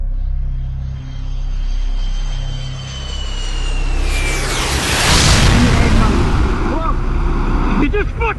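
A jet airliner roars low overhead in Manhattan during the September 11, 2001 attacks, swelling from a rising whine into a loud, broad rush that dominates the middle of the clip, with voices heard before it.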